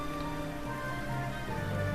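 Steady night rain in the L.A. Noire video game, a continuous even hiss of falling drops with faint tonal game ambience underneath.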